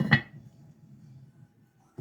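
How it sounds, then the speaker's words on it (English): A lid clanks onto a pot of zesty macaroni soup, one sharp metallic clink up close, followed by a low steady simmer and a second faint knock at the end. "So I'm going to turn it down low, put the lid on"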